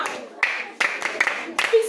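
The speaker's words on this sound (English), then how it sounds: "Clap for Alvin." A classroom of students claps for a classmate named Alvin, several short bursts of hand claps in quick succession, close and fairly loud, mixed with a teacher's voice.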